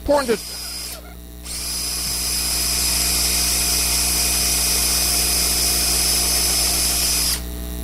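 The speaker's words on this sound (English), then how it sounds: "important to pre-drill to avoid splitting" A power drill whirs in a long steady high-pitched run after a brief start, pre-drilling wood for a butt joint, then cuts off; a voice is briefly heard at the start.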